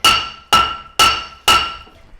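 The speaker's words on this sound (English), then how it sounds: "This is a brass hammer." Brass hammer striking a rear disc brake caliper from a Firebird Trans Am, four evenly spaced metallic taps about half a second apart, each ringing briefly with a bright tone; close and loud, with no talk.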